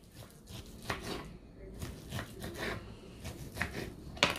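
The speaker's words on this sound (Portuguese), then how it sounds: "o bacon aqui ó, nós vamos cortar ele em cubos grandes" A knife chops bacon into large cubes on a kitchen board, with a quick series of close, crisp cutting strokes and scraping over about four seconds.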